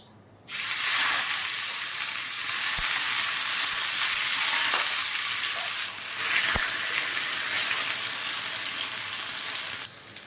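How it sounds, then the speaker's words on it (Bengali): Tomatoes hit hot oil tempered with nigella seeds in a kadai for a spicy fish curry, bursting into a loud, steady sizzle that holds for about ten seconds with faint clinks, no voices. "কড়াইয়ে তেল গরম হয়ে গেছে দিয়ে দেব কালো জিরে ফোড়ন দিচ্ছি কালো জিরে ফোড়ন কালো জিরেটা ভাজা হোক তারপর দেব টমেটো দিয়ে দিচ্ছি টমেটো"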